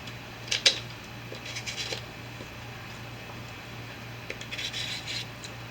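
Rough scraping of a peeler across a patty pan squash skin comes in short bursts of rubbing strokes, close and soft, over a low steady background hum.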